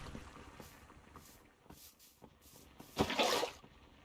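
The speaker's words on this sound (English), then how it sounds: "Let me take just a bucket of water." A bucket of water poured into a basin in the Minecraft Create mod, a short splashing burst near the end after a few soft clicks and quiet taps, with no talking.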